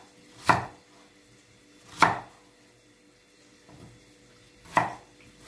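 Chicken and potatoes are chopped on a cutting board with a knife, three sharp, distinct knocks spaced a second or two apart and one softer tap in a quiet kitchen.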